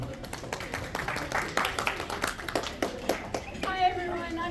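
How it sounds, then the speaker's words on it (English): An audience applauding a speaker at an autism awareness event at a public library, scattered rapid clapping from a small crowd, fairly close, mixed with voices. "Give her a round of applause."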